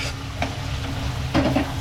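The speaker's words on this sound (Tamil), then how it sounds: "இப்போ நம்ம வேக வச்சிருந்த கறி தண்ணியோடு இதை சேர்த்துக்கலாம்" Boiled mutton and its cooking water going into a pan of chili masala sautéed with fish chili powder, giving a steady close sizzle with brief stirring bursts and a louder splash of frying near the end.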